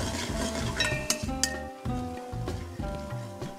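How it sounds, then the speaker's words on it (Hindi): Onions fry in a pan until browned, with a constant sizzle under frequent close stirring scrapes and light metallic clinks of the utensil against the pan. "प्याज को हम अभी लाल होने तक भूनेंगे।"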